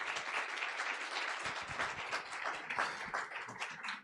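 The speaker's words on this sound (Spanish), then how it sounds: "Vamos a recibirla con un fuerte aplauso" An audience at an academic psychology conference applauds steadily, a dense, moderately distant wash of clapping that holds for several seconds.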